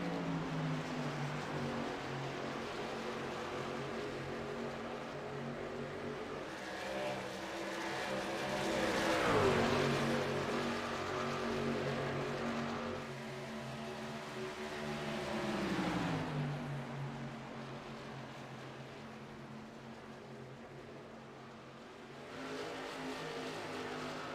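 NASCAR Truck Series race trucks running side by side on track, a loud continuous engine roar that swells and dips as the pack passes, steady and close throughout with no talking.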